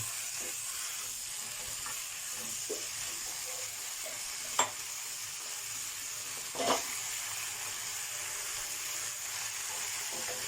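Chicken stir-frying in a pan without oil, steady soft sizzling and hissing throughout, with a couple of sharp scrapes or taps from the spatula against the pan.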